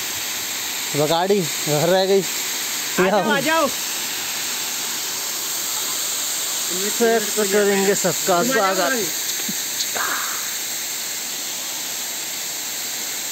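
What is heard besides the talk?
Pedajhar waterfall rushing water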